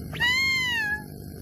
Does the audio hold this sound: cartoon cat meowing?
yes